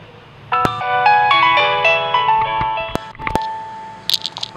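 Polyphonic melodic ringtone from a Nokia N80 phone played loud through its built-in loudspeaker, a bright chiming tune of stacked tones running for about three seconds, then trailing off into a few short clicks and chirps.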